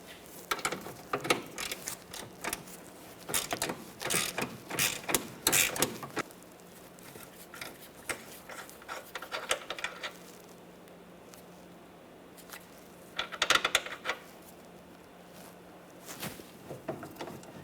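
Ratchet wrench turning a 15 mm mounting nut on the rear lateral link of a Jeep Patriot, bursts of rapid clicking that stop, pause and resume, close and moderately loud.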